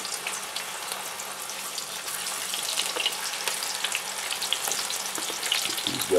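Sliced potatoes fry in hot oil in a cast iron skillet, giving a steady, close sizzle throughout with no talk.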